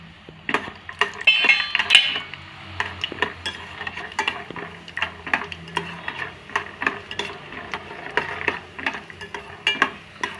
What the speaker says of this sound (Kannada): ಈಗ ಕಡಲೆ ಬೀಜನ ಹುರ್ಕೊಂಬಿಡೋಣ